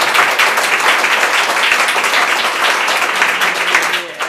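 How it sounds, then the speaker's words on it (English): Audience at a Minnesota House district candidate forum breaks into sustained applause, dense close clapping that holds steady for several seconds before tapering slightly at the end. "you may applaud now"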